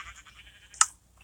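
A single short, bright sheep bleat from the Minecraft game cuts in near the end of a quiet stretch, crisp and close, over faint background game sound.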